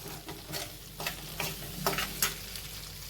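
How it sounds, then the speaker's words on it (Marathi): Pasta tossed in a yellow mustard sauce with butter sautés quietly in a pan, soft sizzling under repeated scraping stirs of a spoon, close but low in level. "आता हे एक दोन मिनिट आपण परतून घेऊया"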